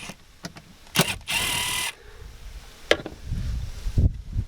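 Cordless drill driver removing screws inside a 2005 Subaru SG Forester cabin, with a short high whirring burst between scattered clicks and handling knocks, close and fairly quiet.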